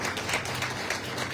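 Audience applause at a Hindi political speech, a steady dense wash of clapping from a crowd, moderately loud and continuous with no voices over it.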